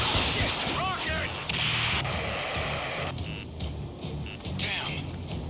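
Rocket fire and explosions in the Ace Combat video game, with broad rumbling blasts, whooshing sweeps and a busy layered mix of game effects running continuously throughout, loud and close.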